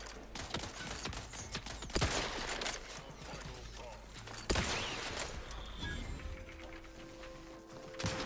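Gunfire in The Outer Worlds 2: scattered shots ring out amid a busy mix of game noise, with sharp, louder reports near two and four and a half seconds and a quieter stretch toward the end.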